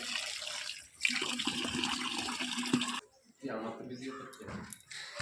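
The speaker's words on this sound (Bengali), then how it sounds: "ঠান্ডা জল মাথায় চান করে চান করবে আবিরবাবু" Cold water poured and splashed over a child during a bath at home, a steady rushing stream for a few seconds, then a break and shorter splashes while voices talk.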